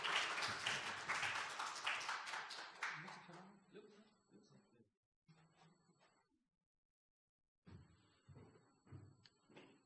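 A church congregation gives a burst of applause for returning short-term missionaries, loud clapping that thins and fades within a few seconds, followed by faint knocks, shuffling and brief talk in a quiet hall.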